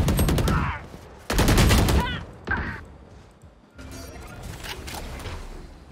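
Bursts of rapid gunfire in the video game Valorant, in quick volleys, loud and close, separated by short pauses with lingering echoes and a fainter final burst.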